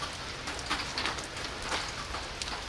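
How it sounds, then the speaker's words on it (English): Steady rain falls outdoors where cats are being fed, a soft continuous patter of drops on surfaces with a few brighter splashes standing out, heard alone at low level. "Rain, still rain."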